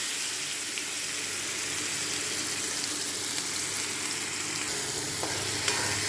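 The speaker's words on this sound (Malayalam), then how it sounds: "പിന്നെ അതിലേക്ക് ഒരു സവാളയാണ് ഞാനിപ്പോൾ ഇടുന്നത്." Sliced onion (savala) fries in oil in a pot and is stirred, making a steady close sizzle with scraping stir sounds and a few small clinks, with no speech.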